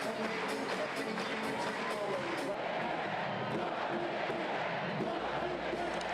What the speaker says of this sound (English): In front of an uncharacteristically raucous Nebraska crowd, the Huskers came out swinging.